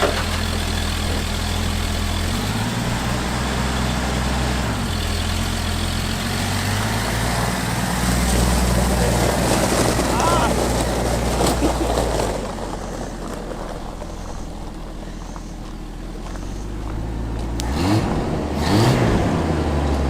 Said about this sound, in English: we should be able to drive this out of here now